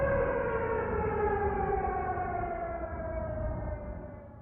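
A civil defense siren from Avraamov's Symphony of Sirens wails loud and alone, its steady tone sliding slowly downward and fading a little toward the end.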